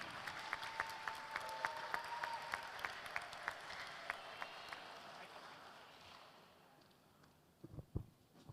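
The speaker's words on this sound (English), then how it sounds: "Please give another round of applause" Conference audience applauding a speaker at the ICOSOP 4 event, a lively burst of clapping that gradually fades out, followed by a few louder handling knocks near the end.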